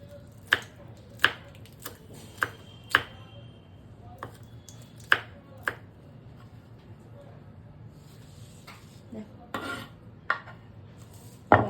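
Knife chopping water spinach (kalmi shak) on a board in a kitchen: sharp, irregular single cuts spaced out, close and fairly clear over a low background hum.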